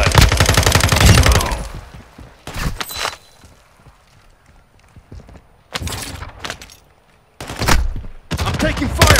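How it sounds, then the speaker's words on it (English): Heavy gunfire in the DMZ video game, loud rapid automatic bursts separated by quieter gaps, the longest burst opening the stretch and several shorter volleys following. "I'm taking fire."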